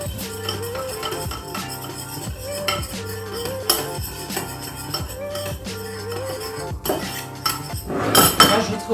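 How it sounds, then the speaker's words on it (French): Brown sugar and cinnamon stirred together in a bowl, a utensil clinking and scraping against the dish in a steady repeated rhythm over a continuous tonal background, with a brighter burst of clatter near the end. "On mélange."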